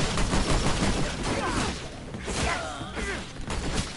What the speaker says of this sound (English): Don't hit me with a shotgun again.